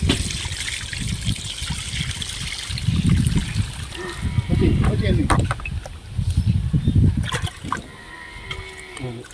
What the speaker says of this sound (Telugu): మా నాన్న అయితే దాని మీద నీళ్ళు పోస్తున్నారు